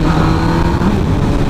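A 2007 MV Agusta F4 1000R motorcycle engine pulls steadily through the gears at close range, a dense, continuous roar with wind noise and no pauses.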